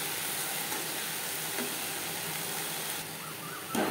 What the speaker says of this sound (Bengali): হাই টু মিডিয়াম ফ্লেমে নাড়াচাড়া করে ড্রাই করে নেব।